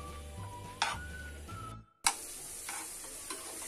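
Khoa milk solids stirred and roasted in a frying pan over a low-to-medium flame, a spatula scraping in quiet repeated strokes over a faint sizzle, with a brief silent gap midway and no talking.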